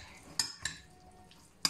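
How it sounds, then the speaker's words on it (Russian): A spoon or utensil clinks against a bowl while tuna salad is stirred, producing three sharp, close ticks spread over a quiet, soft mixing background. "перемешать"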